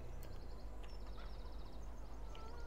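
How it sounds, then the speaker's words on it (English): Farmyard chicken clucking in Farming Simulator 17, a few squawks and bursts of clucks over a constant low machinery hum, with no talking. "All I hear is chickens."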